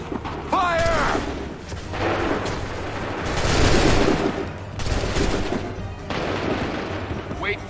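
Musket volley in Assassin's Creed III, a loud rolling burst of overlapping gunfire swelling and fading in waves with booming low rumble, shouted commands in the midst.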